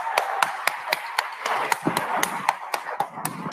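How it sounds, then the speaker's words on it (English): A small audience claps at a discussion event, with sparse, distinct claps landing at an uneven, fairly quick rhythm, close and moderately loud, rather than a full wash of applause. "let's give Bart a big hand of applause"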